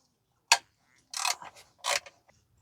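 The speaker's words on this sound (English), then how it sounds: "So we're just going to take off all of the bolts now." A ratchet wrench loosens differential mount bracket bolts on a 2015 Toyota Sienna 3.5 V6 AWD, giving one sharp click followed by two short bursts of ratcheting, close and clear in a quiet space.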